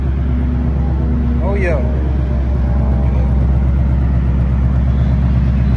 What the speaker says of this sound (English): Sound good once it calmed down. That idle is nice.